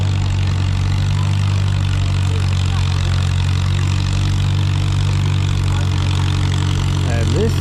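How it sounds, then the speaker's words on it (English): A farm tractor engine idles at a rural charity carnival tractor pulling competition, a loud continuous low rumble with a steady throb, close and dominant throughout. "It's a farm oil tractor."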